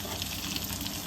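Mustard seeds, cumin, dried red chillies, crushed garlic, hing and curry leaves tempering in hot oil for sambar, a steady close sizzle and crackle of frying filling the whole moment without any talk.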